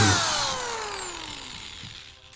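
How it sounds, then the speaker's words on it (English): A power drill bores a guide hole into wood, its motor whine sliding downward in pitch as it slows and spins down, alone and fairly close. "drill one hole from this side. This will be your guide hole"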